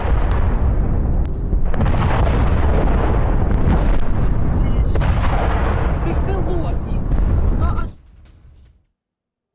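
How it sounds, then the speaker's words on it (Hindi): A loud, sustained roaring blast from an explosion after a drone attack in the Russia-Ukraine war rumbles for several seconds, then cuts off abruptly into near silence. "ड्रोन हमले के बाद जोरदार धमाका हुआ है।"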